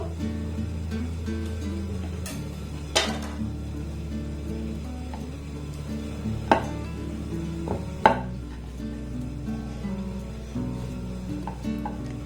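A knife chops through layered dough made of flour and sugar on a board, a handful of soft, sparse thuds and taps spread out under a faint background hum.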